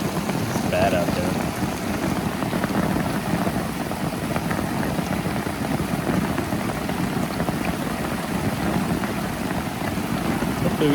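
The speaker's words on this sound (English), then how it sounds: "Super rainy, super wet, super windy." Heavy storm rain pours steadily at a primitive campsite while gusty wind roars across the microphone, a dense unbroken wash of noise with faint voices underneath.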